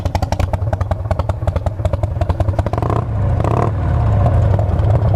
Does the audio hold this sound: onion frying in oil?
no